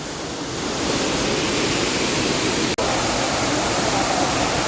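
A man-made waterfall built with steps pours in a steady, full broadband rush, close and continuous with no other sounds over it apart from one brief dropout.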